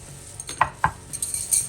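A spoon stirs jerk chicken with habanero pepper and pineapple in a bowl, making a few soft, close scraping and clinking strokes in an otherwise quiet kitchen.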